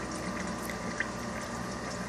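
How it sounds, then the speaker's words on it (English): Water spilling steadily over a coast-to-coast overflow through slits in the plexiglass into a hang-on box at the back of a 180 gallon reef tank, a continuous close trickling wash with no talk. "you have slits in the plexiglass that allows the water to flow over and into this"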